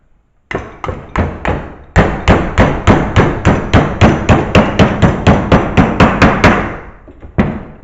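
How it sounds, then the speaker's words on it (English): Sharp metallic hammer blows shape sheet metal on a vise for a 1966 Ford Mustang cowl replacement, a steady, rapid rhythm of around two dozen loud ringing hits close by, with a brief pause near the start. "do some hammering"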